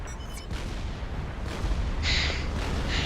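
Fat Boy artillery fires in Supreme Commander: Forged Alliance Forever on Syrtis Major, a rumbling barrage of booming shots with several distinct thumps and a brighter crackling burst near the end, no voices present.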